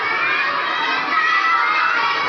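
A class of boys and girls recites the Quran aloud together at the Jamia Masjid Quds Ahl-e-Hadith mosque, many young voices blending into a constant, loud, overlapping group chant with no pauses.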